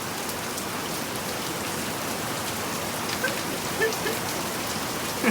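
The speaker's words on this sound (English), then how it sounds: "all of a sudden it just starts coming down and doesn't seem like it's gonna stop anytime soon" Heavy rain pours down steadily in a dense, close hiss, with a few louder drips and splashes standing out near the end.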